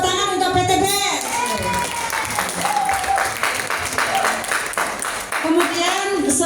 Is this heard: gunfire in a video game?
no